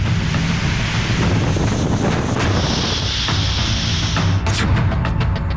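Loud, continuous roar of rough surf and gusting wind from Cyclone Titli in Odisha buffeting the microphone, with a few sharper bursts near the end.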